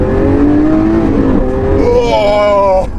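A modified Lamborghini Aventador engine revs loudly and close by while downshifting, with rising and falling pitch sweeps through the gear changes, ending abruptly near the end.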